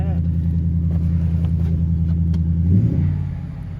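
The 5.0 V8 in a 2022 Jeep Grand Wagoneer idles with a deep, steady low rumble up close, then swells in a brief rev before settling back down.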